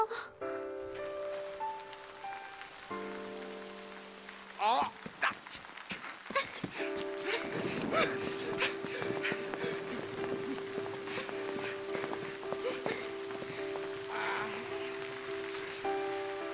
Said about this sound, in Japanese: しばらくは雨の時間か。